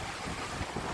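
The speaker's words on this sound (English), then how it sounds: "We headed out west for a while, and quite surprisingly, the wind picked up." Strong wind blows at sea aboard a sailboat, a brief, steady rush of broadband buffeting against the microphone.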